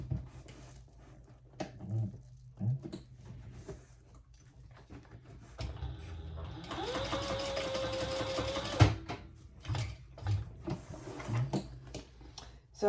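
A sewing machine bastes D-rings onto a curved handbag, its motor whirring in a steady burst through the middle with quieter stitching runs and light handling taps before and after.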